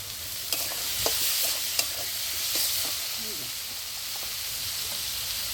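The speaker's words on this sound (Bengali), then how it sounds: "পেঁয়াজটা ভাজা হয়ে গেছে, টমেটো লঙ্কা কুচি দিয়ে দিলাম।" Chopped tomato and green chilli fry with onions in a pan, giving a continuous close sizzle with occasional sharp spatter pops, heard alone.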